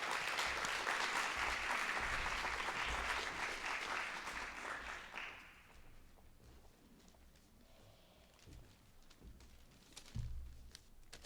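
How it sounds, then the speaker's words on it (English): An audience at a Breonna Taylor lecture gives a speaker a round of applause, a dense wash of clapping for about five seconds that fades into quiet room noise and a few shuffles. "if you can give Professor Powell a round of applause"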